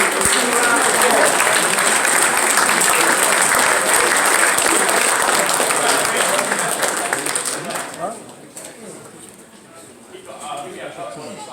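Loud, sustained applause from an audience honoring a camp high school football team at an Exos camp awards event, dense clapping and cheering that fades and thins out toward the end.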